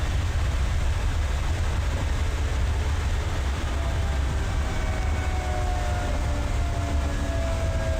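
A long, wavering tornado siren wail in the video game Tornado: Research and Rescue rises slowly over a heavy, constant low rumble, sounding distant and sustained throughout.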